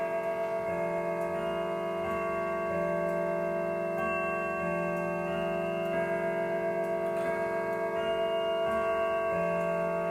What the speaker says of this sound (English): The clock is chiming.